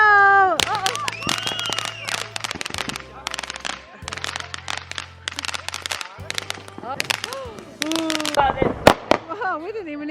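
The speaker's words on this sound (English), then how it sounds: "Whoa, we didn't even need to buy fireworks." Loud, rapid crackling bursts of fireworks going off close by at night, with a dense series of sharp pops and bangs, while people shout and talk excitedly throughout.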